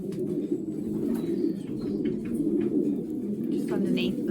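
A racing pigeon coos in low, steady murmurs close by, mixed with the soft cooing of other birds in a loft, while a person speaks over it now and then.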